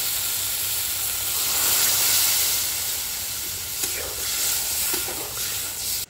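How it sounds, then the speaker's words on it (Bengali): Water hits spices frying in oil for a Bengali fish curry and sets off a loud, steady sizzle. The hiss and steam carry on throughout with no voices over them. "মশলার থেকে তেল ছেড়ে গেছে, এবার জল দিয়ে দিচ্ছি।"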